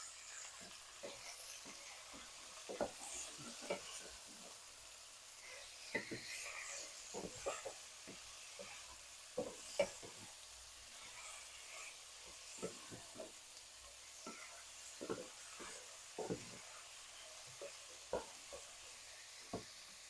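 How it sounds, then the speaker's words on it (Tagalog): Pork cubes sizzle and simmer in a pan with a low, steady hiss, punctuated by frequent soft pops and stirring scrapes throughout, faint and close. "Now I will put this pork. Let it cook, simmer for a while."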